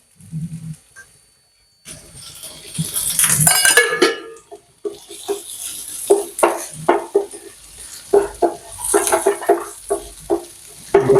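Shallots and green chillies sautéing and being stirred in a pan, with a steady sizzle and repeated scraping and clinking of a utensil against the metal, close and fairly loud after a quiet opening.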